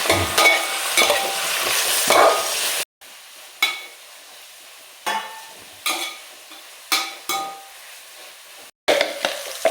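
Fish masala sautéing in a pan with salt and green chillies: a sizzling burst at first, then quieter stretches broken by repeated spatula scrapes and stirring strokes.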